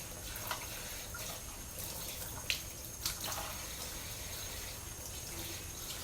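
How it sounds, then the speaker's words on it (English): Seeds rinsed off under a running kitchen tap give a steady, soft rush of water with a few faint splashes and clicks, fairly quiet and close, with no talking. "Let's rinse the seeds off of here."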